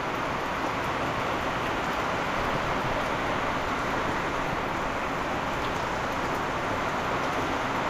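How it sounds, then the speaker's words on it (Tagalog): Heavy rain pours down steadily on a farm, a dense, constant hiss of falling water that stays loud and even throughout with no voices. "Lakas ng ulan."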